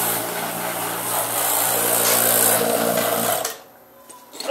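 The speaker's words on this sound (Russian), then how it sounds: "такая вот новая вакуумная помпа, супер мощная, 7 CFM. Такая тяжелая, дебильная, шумная" A heavy, powerful 7 CFM vacuum pump for servicing a refrigerator compressor runs with a loud, rough, engine-like roar, then cuts off abruptly near the end, leaving quiet.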